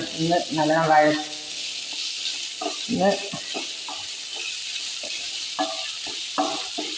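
Chopped green chillies frying in a pan while everything is mixed, a steady hissing sizzle with occasional spoon clinks, partly under intermittent voices.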